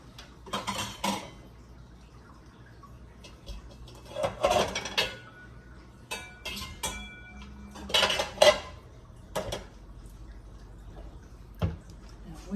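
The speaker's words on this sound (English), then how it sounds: "which lid goes with this pot" Metal pot lids and pans clatter and clank in a home kitchen, in scattered bursts of clinks and scrapes with quiet pauses between, close by and with no speech.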